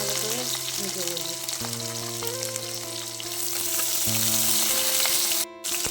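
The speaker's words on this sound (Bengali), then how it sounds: "ক্যাপসিকামটা দিয়ে আমি আরেকটু ভালো করে ভেজে নেবো।" Capsicum sizzles steadily in a frying pan with fried ginger, a dense close crackle under a low background hum, with a brief stir near the end.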